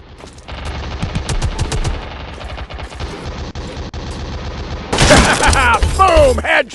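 Rapid automatic gunfire from the mobile shooter game Modern Strike, loud and dense throughout, with repeated bursts and heavier impacts near the end, partly mixed with voices.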